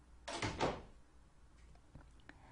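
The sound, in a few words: door opening, sound effect from a video game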